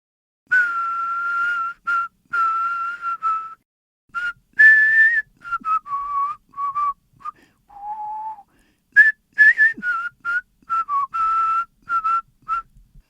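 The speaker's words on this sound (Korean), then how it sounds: "발로는 박자를 맞춰가면서 휘파람을 불고 있었다" Someone whistles a melody in clear, bright phrases separated by short pauses, close and unaccompanied.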